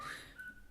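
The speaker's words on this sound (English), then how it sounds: "that was my phone, that was my Note 2" A short electronic tone from a phone, a brief bright chirp followed by a higher beep, faint and quick.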